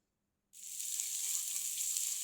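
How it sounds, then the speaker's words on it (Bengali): Chopped onions hit hot oil in a pan for a Bengali duck kala bhuna, bursting into a loud, steady sizzle after a moment of silence and frying on continuously with no voices. "গরম তেলের ভিতর পেঁয়াজ কুচি করে রাখা পেঁয়াজ দিয়ে দিলাম।"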